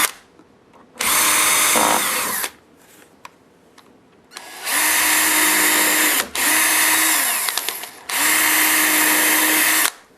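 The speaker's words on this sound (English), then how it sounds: "we're going to take our 1/8 inch drill bit and we're going to drill out this hole" A power drill with a 1/8 inch bit boring pilot holes into a door jamb, running in four loud sustained bursts of whining motor noise separated by short pauses.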